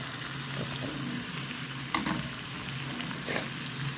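Spice powders including turmeric and cumin being stirred into liver curry in a pan, a steady close sizzle and frying hiss with occasional scraping stir strokes, no talking.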